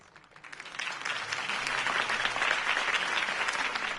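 A crowd applauds Harvey Dent's campaign speech in the Telltale Batman video game, the clapping swelling from quiet into a loud, sustained, dense roar that holds to the end.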